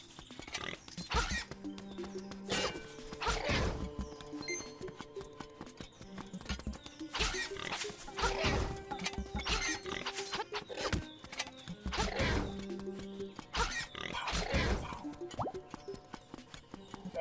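Pig enemies in the video game Link's Awakening make soft oinking and squealing noises among game effects and background music, in short repeated bursts spread across the stretch and fairly faint.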